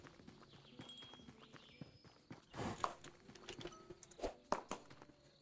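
Horse hooves clip-clop in the tavern management video game Tavern Manager, a scattered run of soft, close hoof taps at an uneven walking pace over quiet background sounds.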